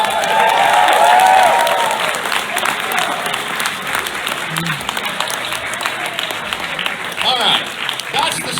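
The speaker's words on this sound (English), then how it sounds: "Round of applause right there." Sustained round of applause and some cheering from a fan convention audience at a charity auction, loud at first then settling into a steady wash of clapping with voices mixed in.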